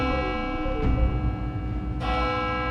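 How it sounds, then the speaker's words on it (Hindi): A large bell tolls in a courtroom setting, sounding two loud, resonant strikes about a second apart, each leaving a long ringing hum that carries through the whole stretch. "घंटी बजी।"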